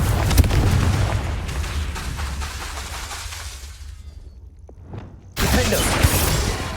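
A Confringo fire spell bursts in Hogwarts Legacy, a loud booming blast that starts the passage, fades through a quieter stretch with a sharp crack near the end, then a second heavy roaring explosion erupts.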